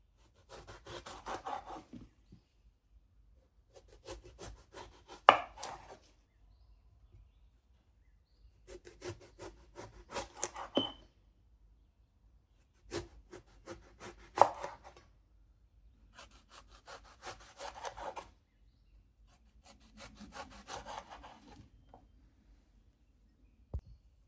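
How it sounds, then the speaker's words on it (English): Repeated bursts of knife cutting, rasping and scraping strokes through firm vegetables such as aubergine, onion and potato, separated by short quiet pauses, close and fairly soft. "Now let's slice up some vegetables."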